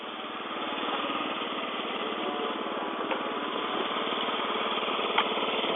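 Small moped engine idling quietly in winter with a steady, even putter, close and moderately loud, with a couple of faint clicks and no voices.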